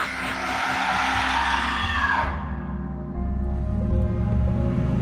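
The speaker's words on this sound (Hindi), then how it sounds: "गाड़ी को हाईवे से दूसरी तरफ जाने वाले रास्ते पर मोड़ लिया।" A car swings off a highway onto a side road at night, with a loud, broad tire skid and engine roar that fades into a steady low rumble.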